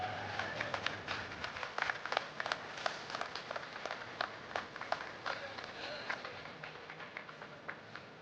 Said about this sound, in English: I don't think I've ever had a crowd clap me before I started